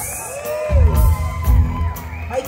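Audience at a farewell concert for a Tejano singer cheers and whoops for the bass guitarist, a loud, dense crowd swell rising suddenly and holding steady with scattered yells.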